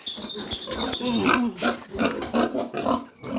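Piglets born to a sow a few days earlier squeal and grunt close by in short repeated bursts, a busy overlapping string of small high-pitched calls.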